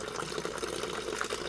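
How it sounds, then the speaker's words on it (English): Water steadily drains out of a rock saw into a container, making a continuous faint gurgling, trickling flow with no pauses and no voices. "And I'm going to drain all the water out right now."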